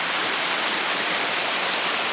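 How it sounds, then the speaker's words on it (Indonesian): Waterfall on a river cascading down stepped rock tiers beside hills and rice fields in Indonesia, a steady dense hiss of falling water heard close and loud, unbroken and with no voices. "Itu ada air terjunnya penonton."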